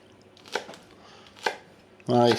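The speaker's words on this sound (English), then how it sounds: "So I'm going to cut this down the middle." Knife chopping celery into big chunks on a cutting board: two separate sharp cuts, then a louder burst of rapid chopping at the end, close and clear with no talk.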